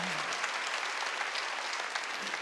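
A church congregation applauding during a Korean Wednesday worship service, a dense, even wash of many hands clapping continuously, fairly faint and distant.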